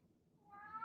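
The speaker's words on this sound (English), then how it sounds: "My cat likes to talk too." A house cat gives a single short, faint meow that rises at the end, heard close by in a quiet indoor room.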